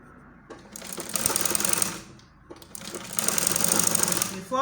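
A sewing machine stitching a balloon sleeve runs in two close bursts of rapid rhythmic clatter, with a short pause between them.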